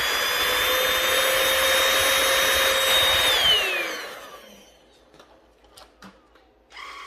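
A lightweight cordless stick vacuum cleaner whines at a high, steady pitch for about three seconds, then its motor spins down quickly and leaves faint clicks and handling noises.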